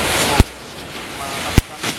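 Two sharp, loud cracks from a lit spinning firecracker ring out about a second apart, with faint background noise between them.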